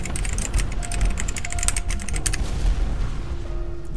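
Fast, steady typing on a mechanical keyboard with Alps switches during a typing game, dense close clicking and clacking keystrokes throughout with no pauses or talking.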